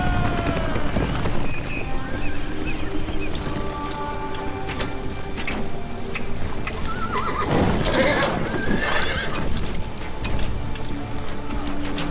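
Horses gallop and neigh in a Battle for Middle-earth battle, repeated whinnies over steady clip-clopping hooves and a dense, rain-like wash of noise, loud and continuous throughout.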